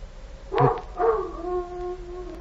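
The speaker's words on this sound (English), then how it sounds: "Sounds like a dog howling." A dog lets out a couple of short yelping barks and then a rising, drawn-out howl, faint and somewhat distant in an old recording, with no talking.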